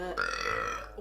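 A loud, drawn-out burp from a woman, rising sharply and holding steady for most of a second before trailing off, close to the microphone.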